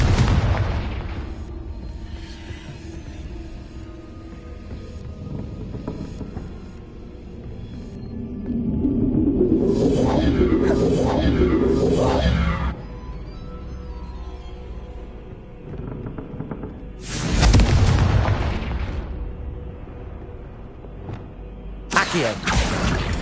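Confringo spell explosions in the Hogwarts Legacy video game, with rumbling booms and a couple of sharp loud blasts rising over a steady game backdrop, close and heavy, with no talking.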